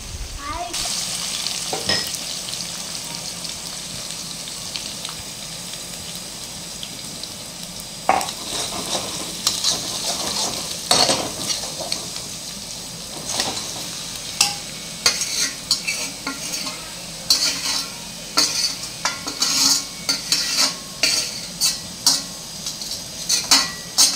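Chicken fries in a pan of tempered spices while a spoon stirs it. Loud, close clinks and scrapes of the spoon come repeatedly over a constant sizzle, growing busier toward the end, with no talking.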